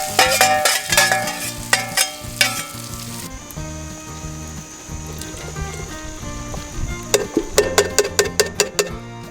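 Andouille sausage sizzles in a pan over a camp stove, a constant close frying hiss punctuated by sharp metallic clinks and scrapes of a utensil stirring.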